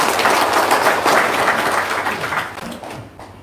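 Audience applause at an Indonesian business talk, a steady broad wash of clapping from a crowd that fades slightly near the end, with no talk over it.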